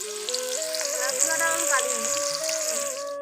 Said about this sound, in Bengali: দিয়ে দেবো কলা কলা ভাজা হবে এখন